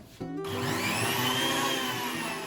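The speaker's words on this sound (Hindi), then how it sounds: "कुछ दाने इलायची के हम ऐड कर देंगे और इसको भी हम बंद करके ब्लेंड कर लेंगे" A blender whirs steadily while blending rose lassi made with cold water, sugar and cardamom, starting abruptly and running loud and close throughout, with no talking.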